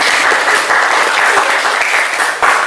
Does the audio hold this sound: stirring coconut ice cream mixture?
no